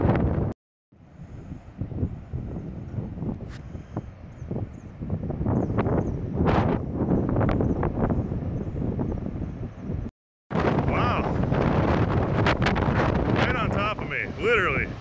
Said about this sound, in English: Here comes the wind too.